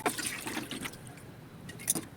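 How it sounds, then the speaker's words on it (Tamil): Water poured into a pot of soaked rice and urad dal while cooking Tirunelveli-style ulunthu sooru, a short, soft splashing and trickling that is faint and close, with no voices. "தண்ணி ஊற்றிக்கலாம்."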